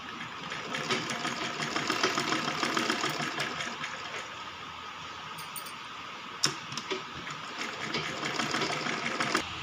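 A sewing machine runs steadily, stitching the shoulder seams of a baby frock, with a continuous whirring rhythm up close and a brief sharp click near the middle; no one speaks over it.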